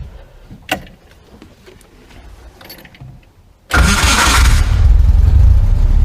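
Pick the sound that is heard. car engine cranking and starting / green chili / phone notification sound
car engine cranking and starting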